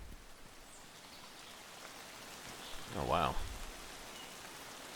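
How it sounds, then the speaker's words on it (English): Steady rain in the video game Escape From Tarkov patters and hisses across a surface in woods, continuous and even, while a voice briefly exclaims partway through. "It's really raining now."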